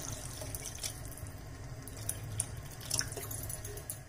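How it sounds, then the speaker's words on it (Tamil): Tamarind water being poured into a simmering coconut masala gravy for a green turkey berry curry, a soft steady trickle and splash of liquid over a low background hum, with a few faint drips and clinks. "இப்போ இதில் நம்ம புளி தண்ணி சேர்த்துடலாம்."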